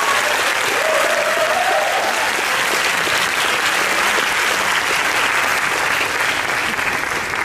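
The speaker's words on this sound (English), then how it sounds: "I think that deserves a big round of applause" Sustained audience applause fills the hall at a film festival closing ceremony in Mumbai, a steady dense clapping wash from many hands, loud and continuous throughout with no speech over it.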